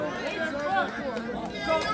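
A crowd of spectators murmurs at a tennis call-out match in Bellfield, a soft, steady babble of overlapping voices throughout.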